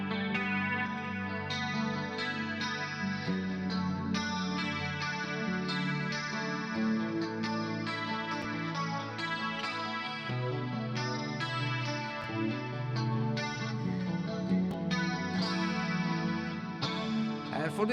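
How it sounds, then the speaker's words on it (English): Electric guitar notes ringing out through long delay repeats and a huge washy reverb, layered and sustained, playing alone without voices. "you can also use a delay with a huge reverb"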